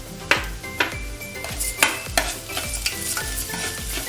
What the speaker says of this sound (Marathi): साखर विरघळेपर्यंत आपण त्याला परतवत राहायचं आहे